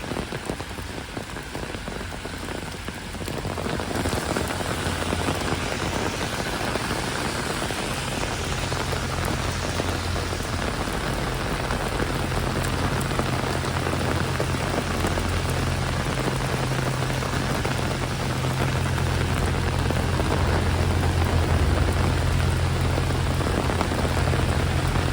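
Heavy rain pours steadily onto a hard surface in London during a thunderstorm, a dense continuous hiss that grows slightly louder partway through, with a low rumble underneath.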